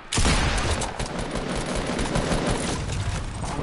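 Dense rapid gunfire from a shooter video game, loud and continuous with overlapping automatic bursts for several seconds.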